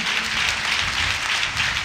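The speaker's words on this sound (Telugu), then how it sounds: "చప్పట్లు కూడా అందరూ గట్టిగా" A church congregation applauds together during a worship service, steady dense clapping filling the whole stretch at an even level with no talk over it.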